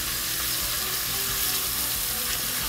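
Onions seasoned with salt and pepper fry in a pan with a steady, dense sizzle that continues unbroken and alone, cooking for Costa Rican gallo pinto.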